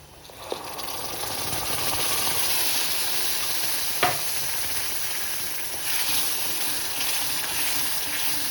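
Tomato puree frying for Punjabi chole, a dense steady sizzle with stirring scrapes and a couple of sharp knocks of a spoon against the pan, close and continuous.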